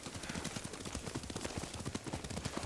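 Horse hooves clip-clopping at a steady trot in Ghost of Tsushima, rapid rhythmic thuds running throughout over a dense background of game ambience.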